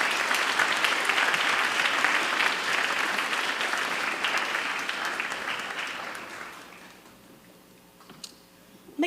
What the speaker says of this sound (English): if we could please have one more round of applause